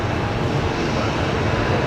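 A Jetstar Airbus A321neo departs Brisbane Airport for Perth at night, giving a steady broadband engine roar that holds at constant loudness throughout.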